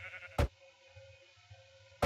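Two short, loud sheep bleats from the Minecraft video game sound about a second and a half apart, with faint low murmuring in the quiet between them.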